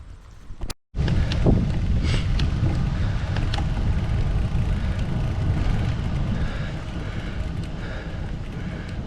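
Strong breezy wind buffets the microphone on a bike trail on a 50 to 60 degree day, a loud steady roar of gusting noise after a brief dropout at the start.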